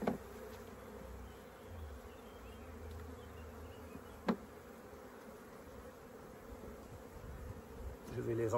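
A steady, low buzzing of many honeybees close by, bees with brood being moved into a hive, continuous throughout, with a faint tap partway through and some handling noise at the end.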